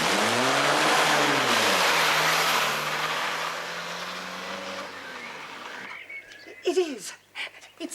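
A car engine runs loud and steady, its pitch rising and falling, then fades away after about six seconds, leaving quiet background with faint sounds.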